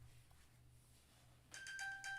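An iPhone plays a locator ping after being triggered from an Apple Watch: bright repeating electronic tones start partway through, fairly loud against a quiet room.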